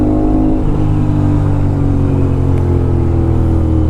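Loud, steady engine and exhaust drone from an Aprilia RS 457 motorcycle with an aftermarket loud exhaust under way on a ride, a dense sustained roar without clear breaks and no voices.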